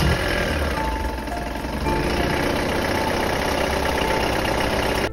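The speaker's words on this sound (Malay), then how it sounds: "dan lepas buka belting tu, aku try start engine lagi" A Proton Wira engine runs with its drive belts removed, idling steadily with a loud, close, even mechanical drone and a faint knock throughout, with no talk.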